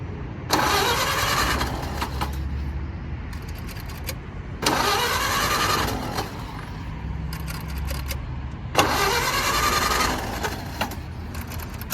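A 1929 Ford Model A traditional hot rod engine cranks and catches in three separate attempts, each burst of loud starter and firing roar lasting about two seconds before falling back to a rough, lower running rumble.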